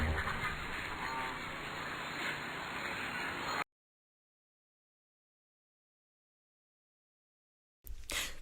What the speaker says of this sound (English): The sad Mother duck, quack, quack, quack, quack